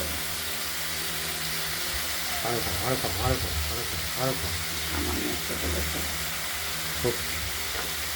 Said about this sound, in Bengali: আলুগুলোকে একটু তেলেতে নাড়াচাড়া দিয়ে পরিমাণ মতো নুন দেবো সামান্য সামান্য